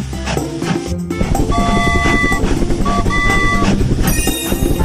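Train sound effect in a Tayo kids' train-play video game, a steady rolling rail clatter with whistle-like toots over bright game music, loud and continuous throughout.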